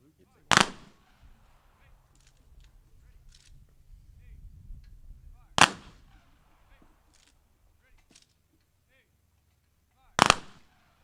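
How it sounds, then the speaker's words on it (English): Rifle volley of a gun salute at an outdoor cemetery ceremony for Wreaths Across America: three sharp, loud shots spaced about five seconds apart, with faint crowd murmur and low background noise between them. "It's going to be a gun salute."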